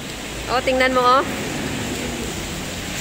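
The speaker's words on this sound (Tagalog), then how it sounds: "Malakas pa rin ang ulan." Heavy rain from Typhoon Saola in Hong Kong, a dense, steady roaring hiss that continues under a brief spoken remark.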